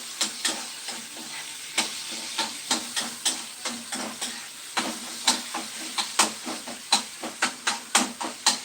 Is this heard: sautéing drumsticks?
yes